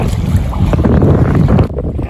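Loud, muddy river water rushing hard past the bank, a steady roaring wash with wind buffeting the microphone, dropping off briefly near the end.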